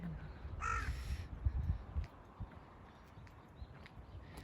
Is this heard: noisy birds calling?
yes